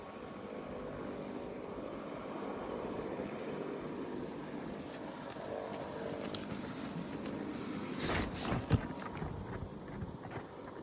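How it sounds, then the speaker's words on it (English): A distant helicopter drones faintly and steadily over boreal forest in Ontario, with some rustling and a few soft knocks close by. "you can hear the helicopter in the distance"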